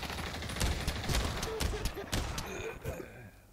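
Chaotic video game gunfire crackles in rapid irregular bursts of sharp shots at moderate volume, a voice faintly reacting in between.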